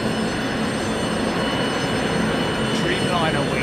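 A large jet departs Ted Stevens International Airport in Anchorage, a dense continuous engine roar at steady loudness throughout.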